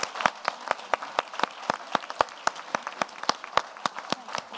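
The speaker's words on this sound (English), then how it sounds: "Big round of applause, please, for our panellists." Audience in London applauding a panel of entrepreneurs at a live event, with sharp, distinct claps in a quick irregular rhythm from a modest crowd, close and clear.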